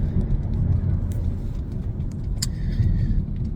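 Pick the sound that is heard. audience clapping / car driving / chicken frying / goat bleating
car driving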